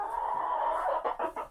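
Farm chickens clucking during a morning feeding, a continuous close murmur of hen vocalizations followed by a few short, distinct clucks near the end.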